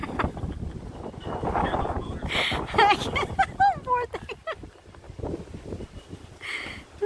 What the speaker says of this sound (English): Man, it's too windy.